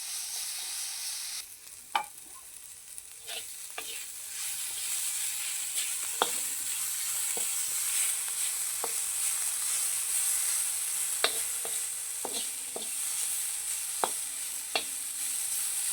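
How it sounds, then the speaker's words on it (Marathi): A dried bombil fish chutney mixture roasts on a hot griddle with a continuous close sizzle, broken by occasional scraping and stirring clicks. "आता हे मिश्रण आपण तव्यावर टाकून घेऊया. आणि 2 मिनिटं आहे ना ह्याला व्यवस्थित असं आपण भाजून घ्यायचं."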